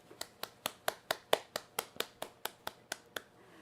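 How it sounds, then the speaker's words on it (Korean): Sparse clapping from a small audience welcoming a guest lecturer to an online Bible memorization class: about fifteen crisp, evenly spaced claps, close and fairly quiet, with no talking. "박수로 모시겠습니다"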